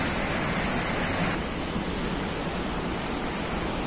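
Palovit waterfall rushing, a loud continuous broadband roar of falling water heard up close, steady and unbroken with no voices over it.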